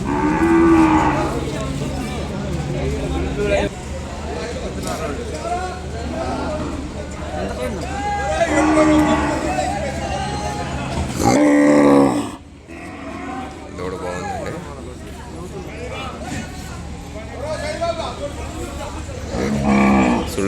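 Cattle moo repeatedly amid a noisy crowd at the Kodad cattle market, with people talking and chattering throughout; a calf's lowing rises above the babble several times.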